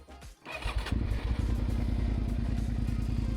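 A Suzuki SV650S V-twin motorcycle cranks briefly, catches and settles into a loud, steady, lumpy idle with a rapid even pulse, close by and with no talking.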